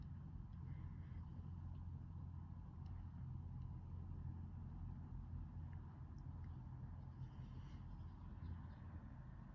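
Several police vehicles pulling away from a residential street during a probation check, a steady low engine rumble and road noise filling the scene continuously at moderate distance.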